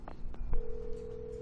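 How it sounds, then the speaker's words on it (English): Telephone in Alan Wake Remastered being dialed: a few quick button clicks followed by a steady tone, short and close, with no talking. "Let's use the phone."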